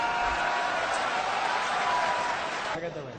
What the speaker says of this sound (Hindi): तो सब ताली बजा के समर्थन कीजिए।